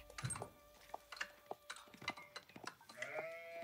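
Sheep in the Age of Empires 4 video game bleat several times in short, separate calls, fairly faint amid light game clicks and ambient sounds.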